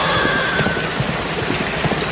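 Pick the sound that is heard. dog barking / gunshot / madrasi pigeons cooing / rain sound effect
rain sound effect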